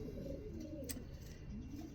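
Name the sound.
racing pigeon cooing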